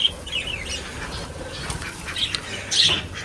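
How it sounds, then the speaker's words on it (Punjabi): Pigeons squawk in sharp bursts with a rustle of flapping wings, close by against steady background noise. "ਆ ਲੈਂਦੀਆਂ ਬਈ ਕਬੂਤਰੀਆਂ"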